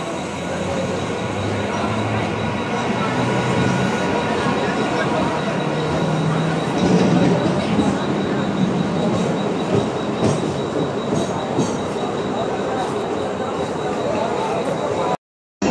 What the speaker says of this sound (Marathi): प्लॅटफॉर्म क्रमांक 1 की लोकल 6:42 की कल्याण जाने वाली 12 डिब्बों की धीमी लोकल है